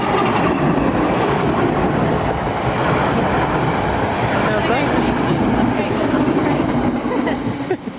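A train rushes past at close range in London, a loud continuous rumble and clatter lasting several seconds before easing slightly at the end.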